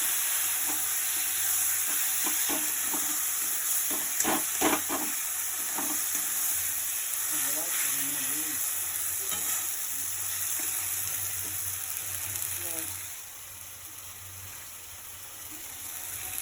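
Ground mustard spice paste frying with vegetables in a pan, a steady close sizzle with clanking stirs and scrapes early on, quieting to a softer simmer near the end, no voices.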